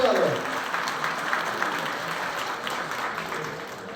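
An audience at a community society gathering in Mumbai claps, a brief burst of applause that starts loud and slowly thins out over a few seconds, with faint voices underneath.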